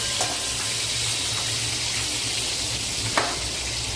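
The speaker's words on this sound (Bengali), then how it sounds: "এরপরে আমি চিংড়িগুলোকে হালকা করে ভেজে নিচ্ছি।" Prawns fry lightly in a pan with a loud, continuous sizzle and a couple of faint clinks, close up with no talking.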